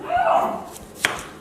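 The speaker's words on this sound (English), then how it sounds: "That's our Basenji talking." A Basenji dog gives a short, yodel-like vocal warble near a kitchen counter, followed by a sharp click of a knife chopping.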